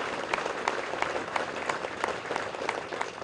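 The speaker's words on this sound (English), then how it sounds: "Please give them a round of applause." Steady applause from a crowd at a military memorial dedication ceremony at Camp Pendleton, continuous dense clapping with no pauses throughout, fairly even in level.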